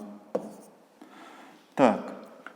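Pen or pencil writing out long division by hand on paper for a fifth-grade maths exercise, a few short scratchy strokes with a louder burst of writing near the end, close and quiet.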